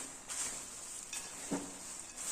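Aval (beaten rice) mixed with nuts and jaggery is stirred in a pan, giving soft scraping and brief rustling strokes at a steady close level, with no voices.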